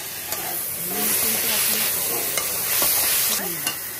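Ginger garlic paste stirred in a hot frying pan, a steady sizzle and hiss under the scrape of a spoon, with a few sharp clinks; a voice speaks briefly near the start.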